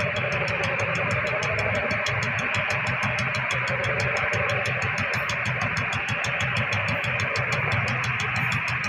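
A Swaraj tractor engine idles with a steady, rapid knocking chug, loud and close, holding an unbroken even rhythm throughout with no voices.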